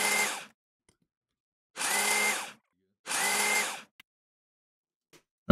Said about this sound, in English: we're going to go ahead and screw that in with three KT screws